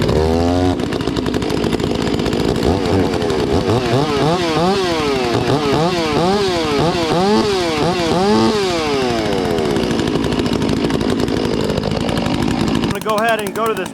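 Several chainsaws revving and warming up outdoors near a wood pile, engines rising and falling in overlapping, loud, continuous bursts for most of the clip, cutting off abruptly near the end.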